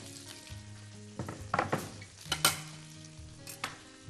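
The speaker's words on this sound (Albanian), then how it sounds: "Qepët e prera" Half-moon slices of onion frying in butter, a steady soft sizzle with a few louder pops and utensil knocks, no voices.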